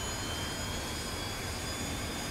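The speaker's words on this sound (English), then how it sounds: "The engine will begin to rotate." The F-4 jet engine spools up during a cold start in a DCS flight simulator game, a steady, dense broadband roar with a faint high whine running evenly throughout, no voices over it.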